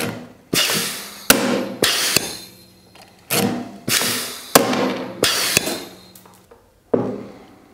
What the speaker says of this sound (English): We will now install the 1/4 inch steel MagnaGrip fasteners in varying material